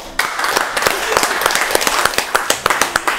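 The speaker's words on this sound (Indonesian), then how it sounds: "kita berikan tepuk tangan dulu Kayla." An audience claps at a casual talk event with the deputy mayor of Ambon, a brisk run of close, loud handclaps that stays dense for about three seconds.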